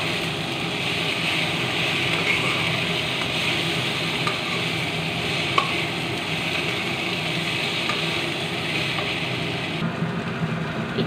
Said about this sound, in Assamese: লাৰি দিছোঁ আমি।